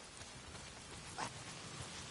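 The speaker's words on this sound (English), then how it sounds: "it's the goddamn rain" Rain falling in the video game Days Gone, a faint, even hiss of rainfall with a soft patter, steady for a couple of seconds with no talk.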